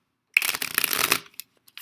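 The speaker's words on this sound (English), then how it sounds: "that was a good shuffle" A deck of playing cards is shuffled once in a quick, close riffle lasting under a second, followed by a few light taps as the cards settle.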